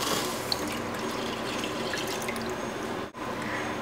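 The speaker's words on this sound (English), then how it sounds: "add 3 cups of milk" Milk pours steadily into a pot on the stove for a sweet Saudi dessert, a continuous close liquid splash and gurgle with a brief break near the end and no talking.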